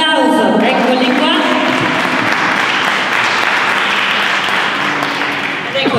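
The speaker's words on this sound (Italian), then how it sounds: "Un applauso, eccoli qua." Loud, continuous audience applause at the Premio Solidarietà Italiana award ceremony in Rome, a thick unbroken wall of clapping that holds steady for six seconds, with a voice faintly audible at the start.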